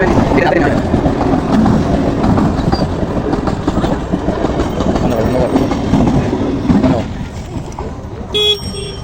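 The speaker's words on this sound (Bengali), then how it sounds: "আর এই দেখো, বলতে না বলতে ট্রেনও ঢুকে গেছে" A train rumbles loudly past a railway level crossing with the gate down, a steady close roar of wheels and cars that eases near the end, followed by a brief toot.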